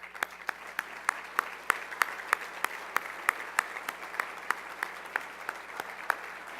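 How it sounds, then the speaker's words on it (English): Standing ovation at a World Trade Center St. Louis business luncheon: a steady bed of crowd clapping punctuated by sharp, regular individual claps close by, continuing evenly throughout. "if you could all stand up so that we could just give you a round of applause"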